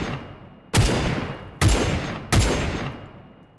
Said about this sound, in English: Because otherwise it is just a handheld autocannon.